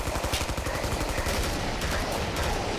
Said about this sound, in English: this M14 is a meaty gun, but the recoil on it is powerful